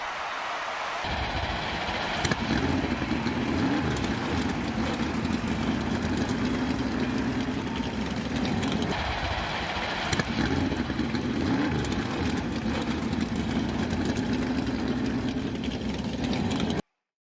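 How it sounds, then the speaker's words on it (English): NASCAR Cup Series race car engines fire up together after a second of quiet and settle into a loud, steady, rumbling idle that holds without a break. "Drivers, start your engines!"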